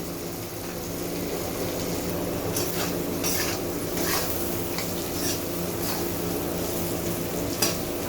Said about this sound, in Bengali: হলুদ দিয়ে দিচ্ছি 1/2 চামচের মতো, আলুগুলো ভালোভাবে ভেজে নেব।